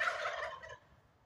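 A wild turkey gobbles once, a loud, rapid rattling burst close by that fades off quickly, with no other sounds.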